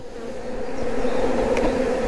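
Honeybees buzz steadily and close by around a hive frame as it is lifted while a small nucleus colony is moved into a full hive. The buzz is a continuous drone and no voices are heard.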